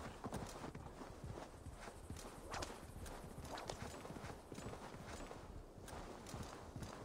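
Steady clip-clop of horse hooves trotting in the video game Assassin's Creed Valhalla, a continuous rhythmic patter with a dense mechanical backdrop, no talking.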